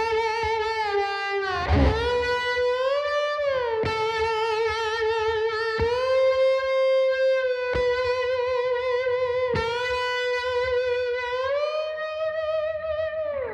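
A slide guitar in open tuning, played with an old Bromo Seltzer bottle, carries a gliding melody of sustained notes that slur smoothly between pitches, with distorted tone, played alone.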